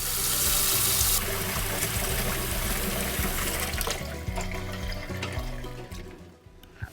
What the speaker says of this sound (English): Drain the eggs into a sieve or a colander and cool them off under running water.